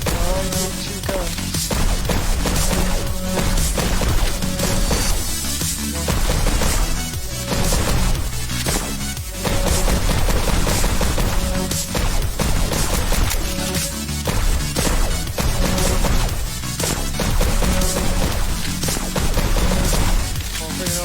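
Rapid gunshots from dual pistols in the VR shooter game Pistol Whip on Oculus Quest land in rhythmic bursts, packed tightly over loud, continuous electronic music.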